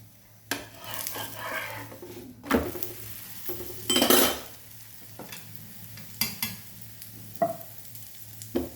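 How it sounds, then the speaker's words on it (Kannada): Sweet potato holige cooks on an oiled pan with a soft sizzle under repeated metallic scrapes, clinks and taps of a spatula, a few louder bursts of scraping standing out. "ನೀಟಾಗಿ ಬೇಯಿಸ್ಕೊಂಡು ಸ್ವಲ್ಪ ಎಣ್ಣೆ ಹಾಕ್ಕೊಂಡು ಬೇಯಿಸ್ಕೊಳ್ಳೋದು"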